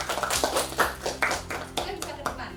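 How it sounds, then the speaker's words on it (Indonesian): Classroom clapping for a student group, a run of sharp, fairly close hand claps in a rough rhythm with a few people clapping together, over a low hum and faint voices in the room. "Beri tepuk tangan buat kelompok 1."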